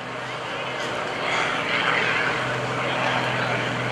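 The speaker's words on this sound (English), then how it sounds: "And he continues to roll the airplane around, 400 horsepower." A 400-horsepower aerobatic airplane rolls overhead at an airshow, its propeller engine a steady, loud drone that swells slightly in the middle and holds throughout.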